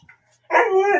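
A single dog gives one short, loud bark, close by and alone, preceded by a faint brief yip.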